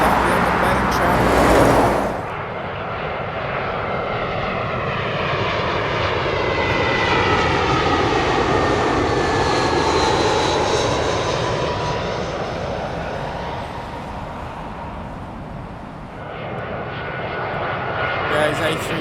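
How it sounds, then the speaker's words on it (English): A British Airways Airbus A320 arriving at Heathrow from Amsterdam passes with a loud, rising and falling jet roar and whine lasting most of the stretch, following a brief burst of other noise at the start. "Airways A320 coming in from Amsterdam."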